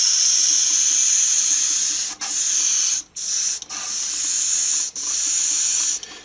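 Spray can hissing steadily as orange paint goes onto a flame design, a continuous loud spray broken by four short pauses between passes.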